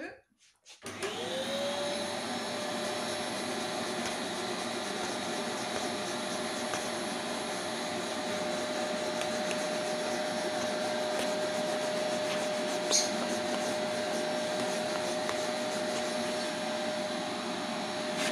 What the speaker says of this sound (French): je vais continuer d'aspirer en frottant un petit peu